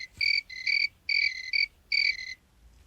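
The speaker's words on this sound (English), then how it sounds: "Cricket." Crickets chirp in four bright, trilling pulses separated by short gaps, clear and close with no voices, a sound effect from the game Blindfold Sound Search.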